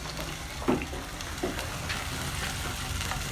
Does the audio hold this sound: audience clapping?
no